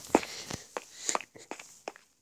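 Footsteps in the Minecraft video game, played on a phone, come as a series of about eight sharp, close, uneven steps with short gaps between them and nothing else around.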